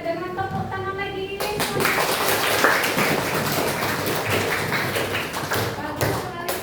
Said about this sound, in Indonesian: Boleh kita menutup diskusi kita dengan tepuk tangan lagi.